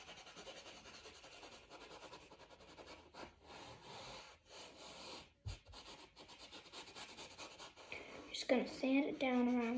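A wooden piece is sanded around its edges by hand, giving a steady rubbing rasp with short pauses, and a voice speaks toward the end.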